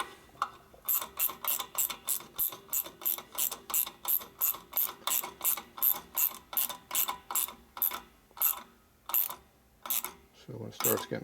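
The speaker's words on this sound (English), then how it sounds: "So these are 2 wrenches to turn the knobs up here." Wrenches turn the adjustment knobs on a Dayton 240V 7-1/2 hp shop air compressor, giving a steady run of about thirty sharp ratcheting clicks spaced evenly and close, with a low thump near the end.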